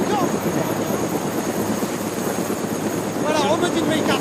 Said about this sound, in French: L'hélicoptère, il va nous tirer dans quelques secondes.